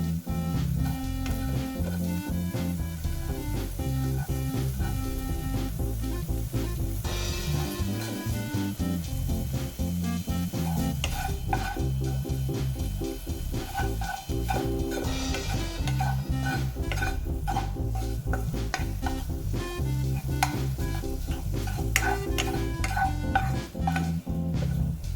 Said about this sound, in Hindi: इसे हमें हल्के हल्के से धीमे आंच में भूंजना है।